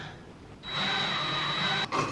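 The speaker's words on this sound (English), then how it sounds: "will you hand me the drill?" A power drill drives a screw while a light fixture is mounted, giving a brief close whir that starts suddenly, holds steady for about a second and then stutters.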